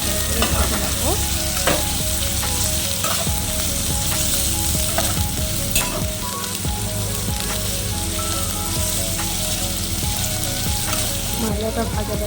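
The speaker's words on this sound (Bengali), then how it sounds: "দিয়ে আমি সমস্ত মশলাগুলো ভালো করে নাড়াচাড়া করে ভেজে রাখবো।" Onion, green chilli and ginger garlic paste fry in oil, a loud, steady sizzle and crackle that runs throughout, broken by frequent scraping and clinking stirs, with no talk.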